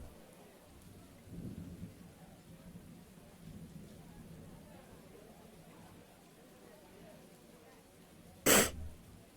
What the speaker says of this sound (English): I hate sneezing so much.